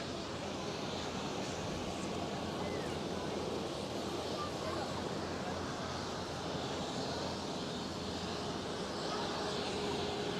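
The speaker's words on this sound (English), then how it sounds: "Vueling A320 in the distance. Well, in the distance. Taxiing by." Distant Vueling A320 airliner taxiing at Schiphol Amsterdam, a broad steady jet roar blended with wind noise, constant and unbroken throughout, with a voice talking over it.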